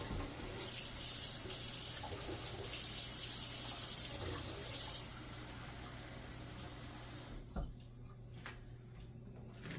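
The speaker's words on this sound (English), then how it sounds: "I need to get my water going first" A kitchen sink tap runs with a loud, steady rush for about five seconds, then the flow drops to a quieter trickle and stops near the end, with no talking.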